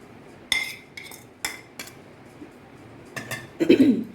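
Coconut powder and powdered sugar are mixed in a bowl, giving a few sharp clinks and scrapes of a utensil against the bowl spaced irregularly, closing with a louder rustling stir, with no one talking.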